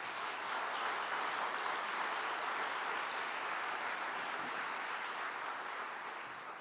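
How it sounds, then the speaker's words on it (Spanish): A church congregation applauds, sustained clapping filling the space steadily before tapering slightly at the end. "Den un aplauso al Señor por eso."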